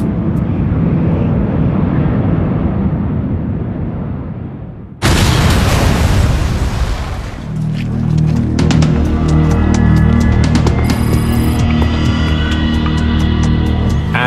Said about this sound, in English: an explosion rips through Tokyo's Narita airport